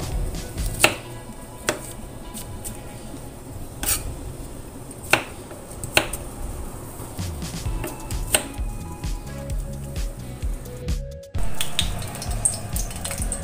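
A knife slices vegetables on a cutting board for a vegetarian tempeh dish, irregular sharp taps and cuts spread across the stretch, close and crisp, with faint kitchen background and a short gap near the end.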